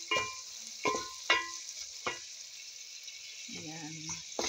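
Slightly green cherry tomatoes sizzle steadily as they fry in a pan with fish and vegetables, over sharp scraping strokes from stirring.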